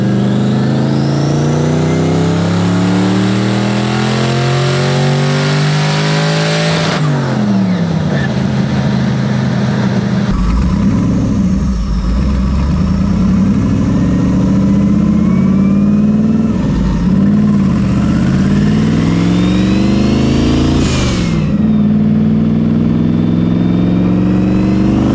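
A twin-charged Ford Crown Victoria engine revving under load, a loud sustained drone whose pitch climbs and shifts repeatedly with whine from the blowers, heard close from inside the car, with people talking over it.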